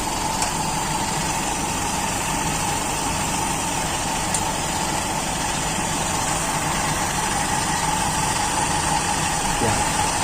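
A Toyota Kijang engine idles steadily and close by while its distributor timing is being adjusted, giving a constant mechanical hum with vibration and no voices.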